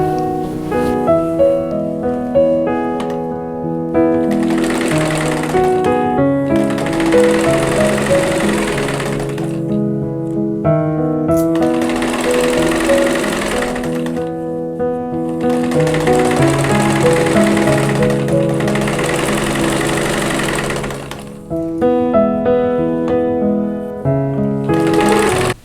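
Rows of a double quartet quilt block are stitched on a sewing machine: close, loud runs of rapid stitching, broken by short pauses and a few slower starts.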